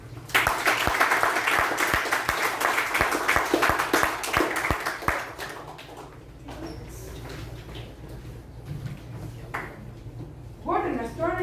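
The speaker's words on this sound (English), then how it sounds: "Please give a huge round of applause" A burst of applause from a group at a youth leadership event fills the first few seconds, then fades into room noise with a voice speaking near the end.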